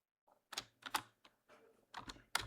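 Typing on a computer keyboard while entering data into a database table: a few quick, light key clicks in short irregular bursts, close and quiet, with no talking.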